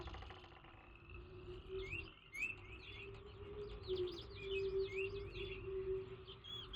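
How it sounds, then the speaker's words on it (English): Ambient birdsong in the realMyst game world: repeated short chirps and whistles over a low steady tone and soft background hum, moderately quiet and continuous. "the birds in the background"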